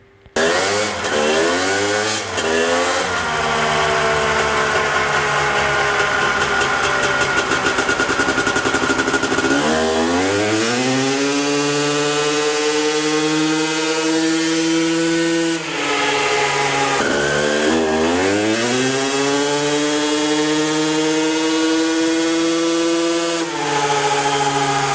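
A two-stroke 250cc motocross engine, such as a 1996 Honda CR250, 2006 Suzuki RM250 or 2016 Husqvarna, runs loud and close on a dyno, its crackling tone climbing through several rising throttle sweeps, falling back and sweeping up again.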